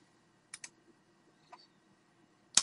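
Computer mouse clicks, close and quiet, in a quick double pair followed by a single click and a sharper click at the end, in a near-silent room.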